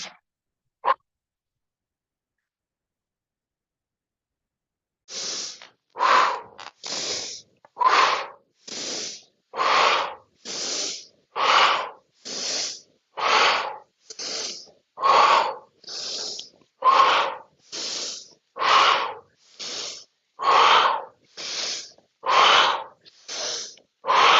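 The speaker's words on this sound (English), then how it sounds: "Inhale in the arch, exhale in the curl" Deep rhythmic breathing during a mobility exercise, with a long quiet pause and then a steady run of forceful, close inhales and exhales, each breath distinct and loud.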